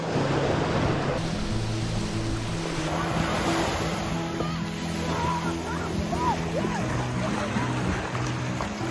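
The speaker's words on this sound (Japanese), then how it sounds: "ちょっと波打ち際で遊ぶのが限界といった感じの波でした。" Ocean waves washing onto the black-sand, rocky beach at Kobo-hama on Izu Oshima, a steady rushing surf with wind noise, while a voice talks over it in the foreground.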